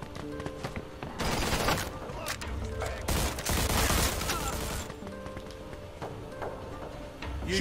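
Mafia II gunfire comes in dense bursts of rapid shots, some close and loud, others further off, mixed with crashing impacts, game music and voices talking.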